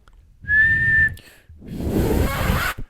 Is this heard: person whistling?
yes